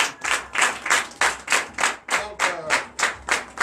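A church congregation at a Sunday service in Comè, Benin, claps in rhythmic unison, about two or three strong beats a second, loud and close without voices.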